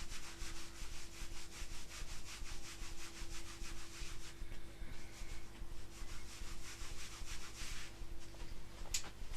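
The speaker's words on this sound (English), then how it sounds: "And give the lower back a rub." Hands rub the lower back during a t'ai chi routine, giving a rhythmic brushing friction of repeated quick strokes, close and fairly soft, over a low steady hum.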